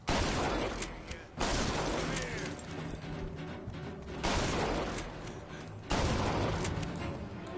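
Gunfire in the Bioshock Infinite video game, a few heavy blasts spaced several seconds apart amid busy game noise, fairly quiet overall.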